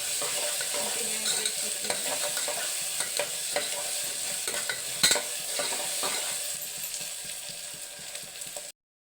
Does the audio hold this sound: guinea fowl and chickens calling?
no